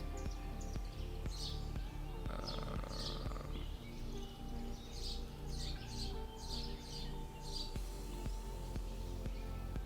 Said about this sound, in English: you can hear all the bird sounds and stuff because this is a video map